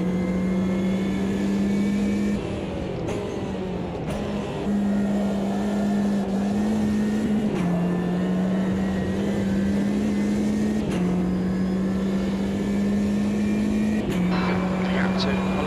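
A touring car in the racing game Automobilista 2 holds a steady droning engine note that dips briefly at gear changes, under near-constant commentary from a voice.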